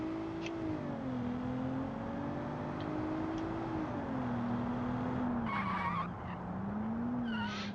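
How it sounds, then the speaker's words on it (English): Tires on a car exported from Automation squeal in the BeamNG driving game, a sustained wavering screech that slides up and down over a continuous engine drone. "automation tires really suck when exported to beamng for some reason, because the beamng normal tires don't scream as much"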